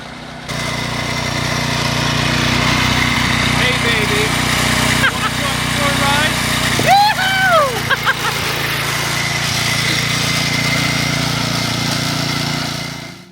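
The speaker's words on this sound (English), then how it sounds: "So that was Mark's lawnmower that he modified." A modified ride-on lawnmower engine, cutting deck removed, drones steadily close by for the whole stretch, its pitch wavering and revving briefly near the middle before cutting off at the end.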